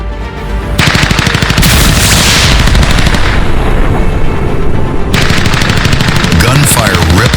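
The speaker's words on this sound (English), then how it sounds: "Gunfire ripped through the air." Continuous machine-gun fire in a war scene, loud and close, with rapid bursts rattling almost without pause over rumbling background blasts.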